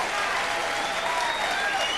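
A crowd at a Jeremy Jackson vs. Shonie Carter fight applauds the two fighters with steady, dense clapping and cheering that holds throughout, loud and close, with a commentator's voice faintly underneath.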